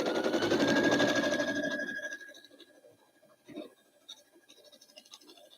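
A sewing machine stitches foundation paper pieced fabric along a printed line, a loud steady whirring run for about two seconds, then stopping, leaving soft handling and rustling noises of the fabric and paper.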